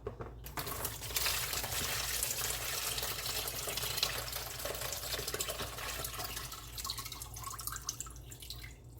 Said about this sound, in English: you're gonna go ahead and pour it out in a container